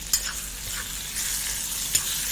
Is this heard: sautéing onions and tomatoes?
yes